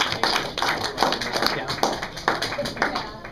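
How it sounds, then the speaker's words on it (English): A small group claps at a cosplay talk on getting into character, a few loose bursts of clapping close by with uneven rhythm and voices talking over them. "Give him a round of applause"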